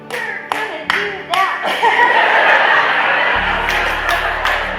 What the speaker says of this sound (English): can you show us an example of how mom claps